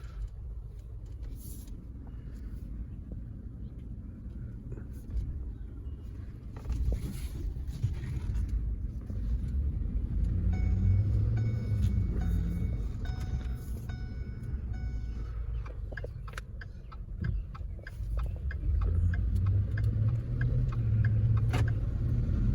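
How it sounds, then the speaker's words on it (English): A V8 pickup truck engine pulling while driving, a low rumbling drone that swells as the gas is applied, heard from inside the cab with road noise and occasional clicks. "as you can tell, it is a V8, so you can hear it when you get on the gas pedal."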